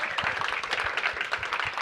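An audience at a corporate summit kickoff applauds, steady overlapping claps forming a sustained moderate roar throughout, with no talking over it.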